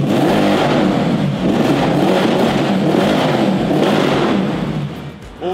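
A loud Mercedes AMG Black Series sports car engine with Akrapovic exhaust and Super Sprint headers revs hard, its exhaust roaring and droning steadily before easing off briefly at the end.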